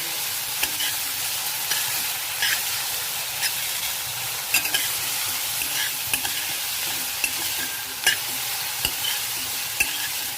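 Beet greens sauté in a pan over high gas, making a continuous bright sizzle punctuated by regular light clicks and scrapes of a utensil stirring, with no talking.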